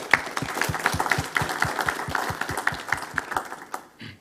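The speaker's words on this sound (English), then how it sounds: "a round of applause for all the electeds" Audience applause at a public-sector fraud seminar, honoring elected officials: a dense wash of clapping with a few sharper individual claps standing out in a steady rhythm, fading out near the end.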